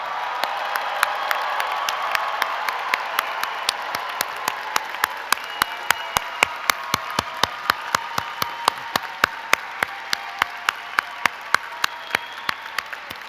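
A graduation commencement audience at the University of Michigan applauds the class of 2024 graduates with sustained, dense clapping across a large hall, steady from start to finish with a few sharper claps standing out.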